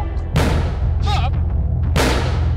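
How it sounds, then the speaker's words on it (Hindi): Two loud booming blasts, one early and one near the end, over a heavy low rumble, with a brief voice-like sound between them. "ये धमाका आपकी सेफ्टी के लिए था."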